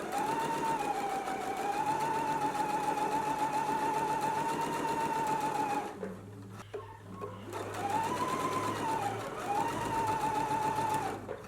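A sewing machine stitches a dress seam at a 5/8 inch allowance, running as a steady close whirring hum that pauses briefly midway and then resumes at the same even speed.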